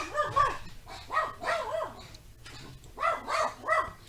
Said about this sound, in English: Uh-oh, dogs are going off.